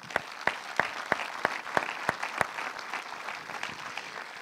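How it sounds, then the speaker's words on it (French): Audience applause at a film festival closing ceremony in Saint-Jean-de-Luz, a steady mid-distance crowd clapping with a few sharp, rhythmic louder claps near the start, continuing evenly throughout. "Là aussi, je vous demande de les applaudir."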